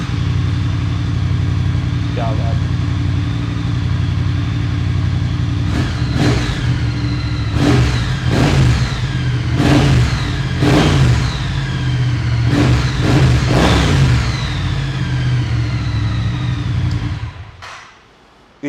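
A Royal Enfield Interceptor/GT motorcycle engine idles with a steady thrum, then takes a series of sharp throttle blips and dies away near the end. A man exclaims briefly.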